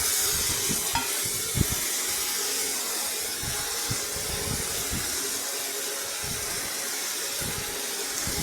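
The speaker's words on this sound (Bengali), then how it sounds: "এইভাবে পোস্তর থেকে তেলটা বের করে নিচ্ছি আদা কাঁচা লঙ্কাটাও ভাজা ভাজা হয়ে যাচ্ছে" Paste of ginger, green chili and poppy seed sizzles in hot oil, a continuous close crackling hiss with intermittent soft stirring scrapes throughout.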